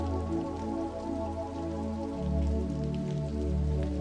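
Slow rain patters softly against a window in a dark, quiet room at night, a steady, gentle wash of drops under a low sustained ambient drone, with no voices.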